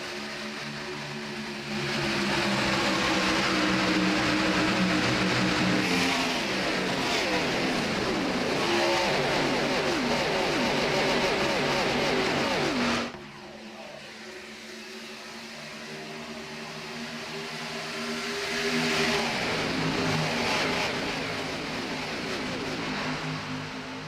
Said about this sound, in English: Here come the engines roaring through the field.